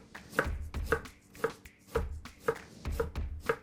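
A knife chopping a soup garnish into julienne on a cutting board, about eight crisp, evenly spaced chops close up with quiet pauses between, no talk.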